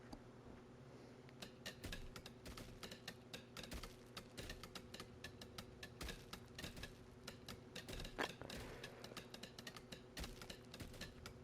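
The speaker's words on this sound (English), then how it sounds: "It's a lot of clacking." Rapid, uneven mechanical clacking from Tales of Arise, like keys or gears tapping, runs continuously for several seconds over a low droning background hum with no voices.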